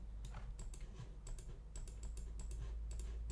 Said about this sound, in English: I'm just going to click with my mouse to show you what our stamp looks like